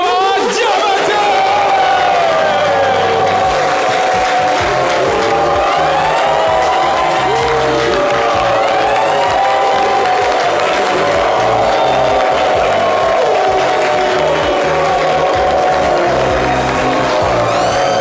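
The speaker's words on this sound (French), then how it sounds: "souhaitons tous ensemble, sous fond de musique, lumière et applaudissements, la bienvenue à Monsieur Ibrahim Fama Diabaté." A studio audience on a television talk show cheers, whoops and claps loudly to welcome a guest, the crowd noise sustained over music, with voices in the mix.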